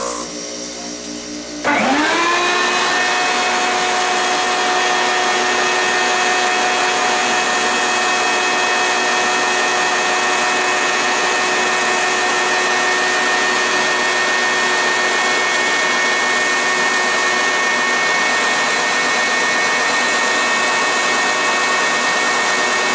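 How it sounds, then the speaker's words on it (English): A power sander works on a leather holster, starting after a brief quiet moment and then running as a loud, steady, high-pitched motor whine that holds constant to the end. "the sanding process is long, drawn out, and pretty boring"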